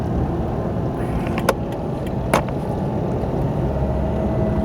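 An Isuzu MU-X with automatic transmission accelerates through busy traffic, its steady engine and road noise continuous throughout, with two brief clicks or taps partway through.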